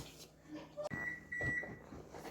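A kitchen oven sounds a short electronic beep partway through, fairly faint against a steady background hum.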